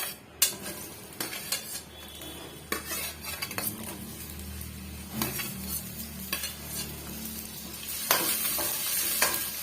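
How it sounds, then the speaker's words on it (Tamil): Onions sizzle in hot oil in a pan while cooking capsicum curry, a steady frying hiss broken by clinks and scrapes of a spoon stirring against the vessel, close and fairly quiet, with no talking. "பாருங்க ஆயில் நல்லா சூடுபட்டு வந்துடுச்சு இப்போ நம்ம எடுத்து வச்சிருக்க வெங்காயத்தை வந்து சேர்த்துக்கலாங்க"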